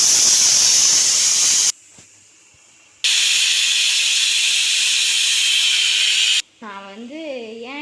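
Pressure cooker on a kitchen stove letting off loud steam in two long, steady hissing bursts with a brief pause between them, then a short tonal sound near the end.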